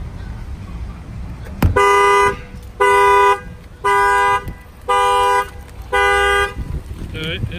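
A car alarm set off by banging on a tire during an alarm installation at night, giving a sharp knock followed by five loud, evenly spaced horn-like beeps, each lasting about half a second, then a short chirp.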